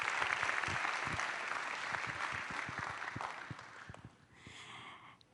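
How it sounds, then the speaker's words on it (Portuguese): Church congregation applauding at a worship service, a dense burst of clapping that gradually thins and fades out toward the end. "Aplaudam o Senhor."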